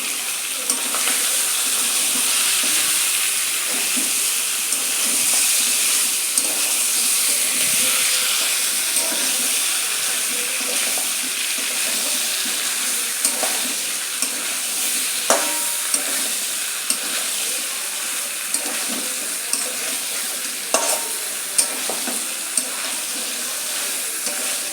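Potatoes, fried beforehand, sizzle and hiss steadily in a pan of curry as they are stirred in, with soft scraping clicks of the spoon throughout and no talk.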